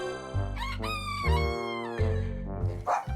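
A rooster crows close by near a chicken coop, giving several loud, drawn-out cock-a-doodle-doo calls with brief clucks between them and no talking.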